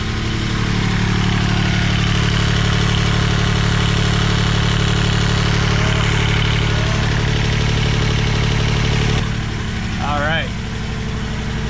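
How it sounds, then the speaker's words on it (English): A boat engine idles steadily with a low, even hum throughout, a voice briefly audible near the end. "start the engine and let it run for a while at idle"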